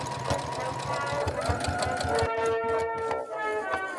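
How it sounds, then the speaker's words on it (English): Sewing machine stitching the center face seam of a giant plush alien, a fast steady mechanical whirr that slows and stops partway through, with a faint tone lingering afterward. "I also need to sew up the center seam of the face"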